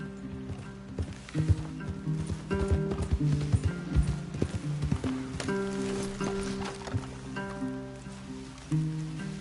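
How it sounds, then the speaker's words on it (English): Horses' hooves clip-clop at a walk in a PS4 video game, irregular close hoofbeats mixed with other tonal game sounds and no talking. "Leave the horses in the trees there."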